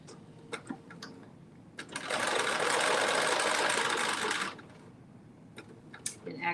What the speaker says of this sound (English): now I'm going to create a narrow stitch,